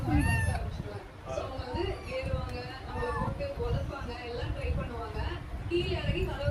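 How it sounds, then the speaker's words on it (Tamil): A cat meows several times, shrill and fairly close, while people chatter over it. "என்ன மியாவ் சவுண்ட் வேற விட்டுக்கிறாங்க?"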